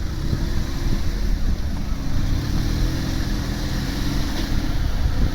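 Vauxhall Vectra CDX 2.2 16v car being backed up and turned around outdoors, a steady low engine rumble with wind buffeting the microphone, close and continuous without talk.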